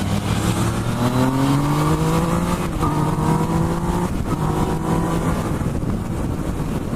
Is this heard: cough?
no